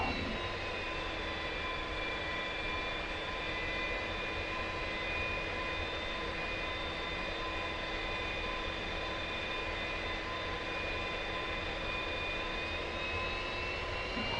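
An F-86F jet taxis on a runway in the DCS World flight simulator, giving a steady, continuous engine whine with a sustained high-pitched tone. The level stays constant throughout.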